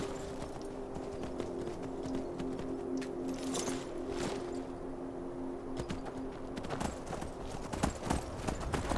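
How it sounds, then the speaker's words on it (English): Hooves of the horse Shadowmare from the game Skyrim clip-clopping continuously at a steady pace, moderately loud under a constant low background hum. "Shadowmare, move it! Oh, you fucking horse."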